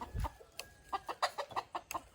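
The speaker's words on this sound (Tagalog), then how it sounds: "Nay manok hiniktan diri guys oh." A chicken clucks close by in a quick series of short, soft, irregular clucks, with no talking.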